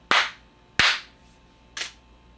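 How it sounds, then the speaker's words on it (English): Three sharp, loud hand claps close to the microphone in an indoor room, the first two quick and strong, the third a little softer after a longer pause, each snapping out alone. "and then clap my hands"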